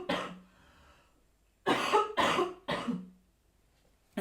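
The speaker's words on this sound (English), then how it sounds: "now I've got a lingering cough" One short cough, then after a pause three harsh coughs in quick succession, close and loud, with quiet breathing between.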